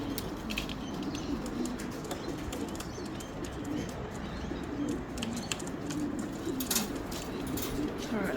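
Racing pigeons coming in to the loft after a 256 km race, soft cooing and fluttering wings amid outdoor ambience, with scattered chirps and brief sharp clicks.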